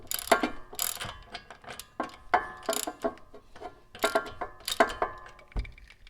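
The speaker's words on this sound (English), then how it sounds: "Then I'll just use my ratchet to finish taking them off." A hand ratchet loosening brake bolts on a Jeep Renegade, bursts of rapid clicking pawl ticks in short uneven runs, close and fairly loud, with light clanks and no talk.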